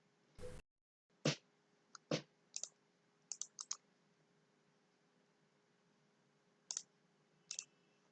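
Sparse keystrokes on a computer keyboard typing a short word, a handful of separate clicks spread across quiet moments, faint and fairly close.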